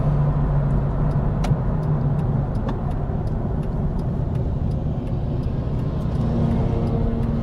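A Mitsubishi Eclipse with a 4-cylinder engine drives along, its steady road and engine rumble filling the cabin, with faint ticking clicks scattered over the drone; no one talks.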